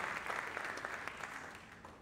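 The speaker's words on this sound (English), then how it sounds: "yes, you can applaud for the youth" A church congregation applauds the youth during a traditional worship service. The clapping is steady and diffuse, like a crowd heard from some distance, and it continues for the full two seconds.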